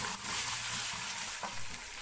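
Ginger garlic paste sizzling and frying in hot oil with browned onions for a dhaba-style daal mash, a steady close crackle with brief stirring scrapes and no voices.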